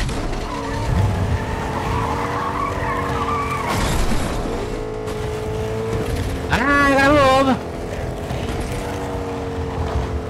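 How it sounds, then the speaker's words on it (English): Car engine driving and skidding in the video game Fortnite, a steady motor drone with a brief loud tire-screech burst midway, heard under a person talking. "now I need this vehicle"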